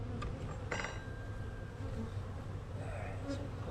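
Honey bees drone steadily around a frame pulled from the hive, a dense close buzz throughout, with a couple of faint clinks of hive equipment early on.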